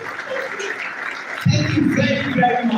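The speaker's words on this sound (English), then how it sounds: "Please clap for all the fellows present of the Nigerian Institute of Architects" Audience clapping for fellows of the Nigerian Institute of Architects at a bust unveiling at A.B.U. Zaria, starting suddenly partway through and continuing as steady, moderately loud applause, with a voice audible beforehand.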